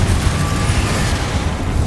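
A Confringo fire spell detonates in Hogwarts Legacy, giving a dense, rumbling blast with sustained low-end roar and crackling debris across the whole stretch, loud and close with no pause.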